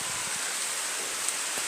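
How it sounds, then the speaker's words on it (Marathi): Rain falling over a Konkan village during the first monsoon shower, a steady even hiss of drops with no voices. "त्याच्यामध्ये पण पाऊस पडतोय मस्त एकदम."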